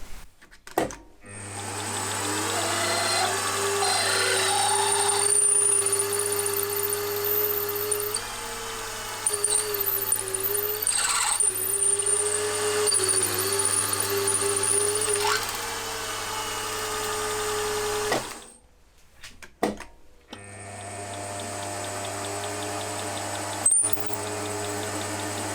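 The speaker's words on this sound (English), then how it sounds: "So this is a 25/64 drill bit." A 25/64 drill bit cuts into a cylinder head for a Jerry Howell V-twin model engine, with a machine motor humming steadily and a whining cut that rises and falls before stopping briefly, then resuming.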